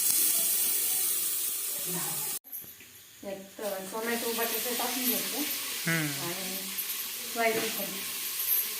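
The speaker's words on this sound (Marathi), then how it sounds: "कुकरमध्ये तेल टाकून आधी कांदा परतून घ्यायचं" Onions sizzle and hiss steadily in hot oil in a pressure cooker, with someone talking over the frying throughout.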